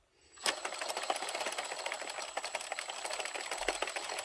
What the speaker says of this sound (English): I am going to grab my drill attachment here, speed things up a little bit.